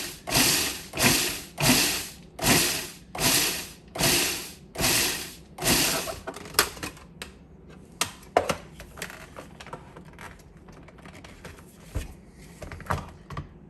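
Seven rhythmic whirring pulses of a food processor chopping crackers into crumbs for a lemon cracker pie crust, close and loud, followed by scraping, tapping and clatter of handling the bowl.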